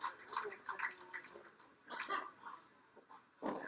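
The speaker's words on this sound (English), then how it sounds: "Hear him coughing out there, can't breathe." A man coughs several times in short, uneven bursts, fairly close, with brief pauses between, at a wrestling event.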